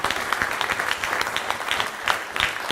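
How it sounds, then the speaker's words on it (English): Moderate applause from a small audience at a candidate forum, individual claps audible as uneven sharp bursts, continuous and fairly close. "Let's give a big round of applause for the candidates that have come out."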